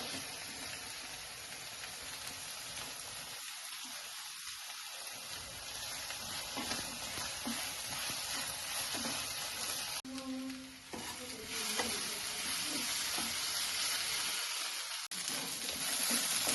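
Sliced onions and green chillies frying and being mixed in a pan, a soft continuous sizzle with faint scraping stirs, fairly quiet and without speech.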